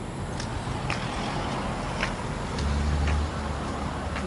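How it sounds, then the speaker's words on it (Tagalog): Road traffic rolls past on a newly built road, a continuous broadband roar with a deeper rumble as a heavier vehicle passes midway and a few faint clicks, with no one speaking. "Maingay lang dito yung mga sasakyan."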